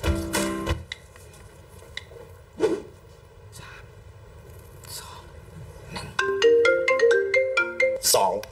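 A mobile phone ringtone plays a bright, loud melody of quick repeated notes in the last few seconds, after scattered quieter knocks and rustles.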